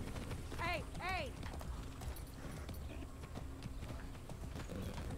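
A horse in the Far Cry 6 video game gives a whinny, then its hooves clip-clop at a quick gallop under steady background noise, while a person talks.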